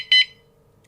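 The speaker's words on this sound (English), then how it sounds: "So double beep means the locking pin has latched." Two quick, loud, high electronic beeps close together from a Fpv-Power kayak lock alarm as its locking pin latches, followed by near silence.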